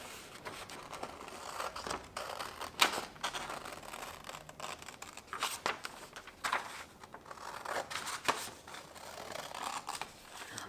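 Scissors snip through fabric cut from a traced pattern for a no-sew face mask, a run of irregular crisp cuts with light crinkling, close up and with no talk.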